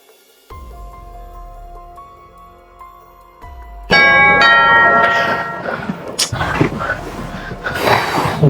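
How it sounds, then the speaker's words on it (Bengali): An indoor electronic doorbell rings, its sustained chime tones running for a few seconds before a louder burst of household noise. "এখন আবার কে কলিং বেল বাজাচ্ছে?"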